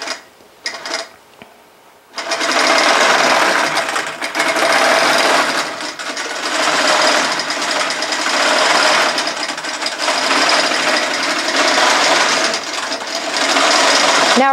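An automated sewing machine driven by a Quilt Magician stitches steadily. A couple of soft handling clicks come first, then a loud, continuous mechanical whir runs without pause and without speech.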